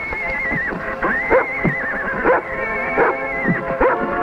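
A horse neighs and whinnies repeatedly, loud and close, its shrill wavering calls coming in quick succession.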